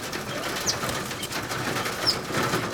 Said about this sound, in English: We raised blue scale and Gamble's quails.